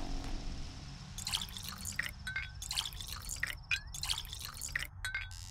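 Water runs from a tap in the game Pathologic 2, a steady trickle and splash with bright dripping, pouring tones over a low background hum, no voices.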